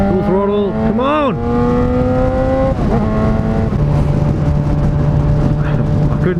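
A 2012 Yamaha FZ6R motorcycle accelerates hard at full throttle, its engine note rising loud and close through the gears, with a shift and renewed climb over steady wind noise, a voice talking over it.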